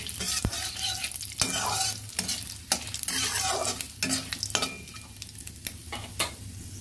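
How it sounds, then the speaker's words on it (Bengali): Panch phoron spices frying in a pan while being stirred, with repeated scraping strokes over a steady sizzle, close up and without talk. "পাঁচফোড়নটা নেড়ে চেড়ে"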